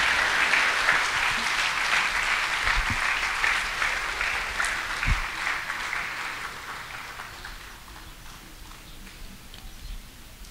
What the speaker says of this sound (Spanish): Un aplauso a la Reina María, Madre de Misericordia